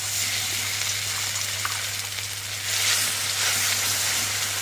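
Food frying in a pan, giving a steady broadband sizzle that holds throughout and swells a little louder in the second half, with no one talking.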